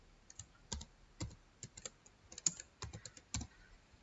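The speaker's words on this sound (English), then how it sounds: "I just selecting the folder and type here" Someone types a file name on a computer keyboard: a quick, uneven run of soft, close key clicks in short bursts over a quiet background.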